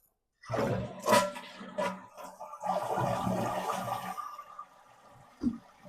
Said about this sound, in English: Toilet flushes, toilet fills.